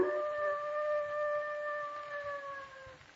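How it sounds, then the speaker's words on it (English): A dog's long, wavering howl sustained for about three seconds as a radio drama sound effect, clear and prominent over a faint hiss. "That sounded like a dog howling."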